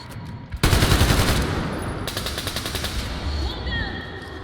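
Rapid bursts of automatic gunfire in the Metro Exodus video game, loud and close, with sustained rattling volleys and short pauses between them.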